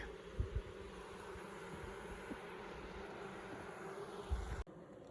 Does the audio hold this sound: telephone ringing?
no